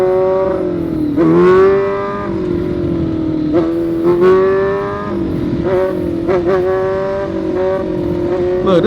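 A motorcycle engine repeatedly revving up and falling back while setting up a wheelie, each rev rising to a high whine with harmonic overtones, loud and close.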